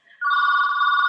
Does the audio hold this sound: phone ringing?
yes